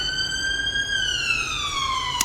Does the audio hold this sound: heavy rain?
no